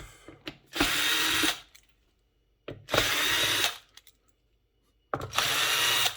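Screws being driven out of a Technics SL-1200MK2 turntable, heard as three loud, harsh whirring bursts of just under a second each, evenly spaced with quiet pauses and small clicks between them.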